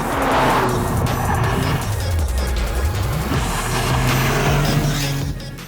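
A 2023 Toyota GR Corolla brakes and accelerates out of a track corner with a loud, close engine note that falls and rises, with tire squeal throughout.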